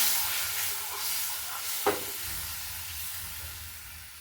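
Crushed Justicia and Pothos leaves fry in a pan, giving a steady close sizzle and hiss with one brief stirring knock midway and no talking.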